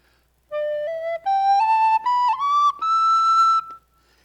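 A recorder, a wind instrument, plays a clear, pure-toned rising scale of sustained notes, close and loud, stepping up one pitch at a time and then holding the last note before stopping.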